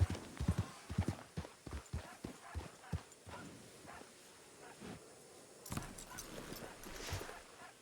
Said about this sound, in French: Oui, voilà, je peux monter sur vous, John Horse